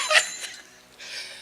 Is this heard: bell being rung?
yes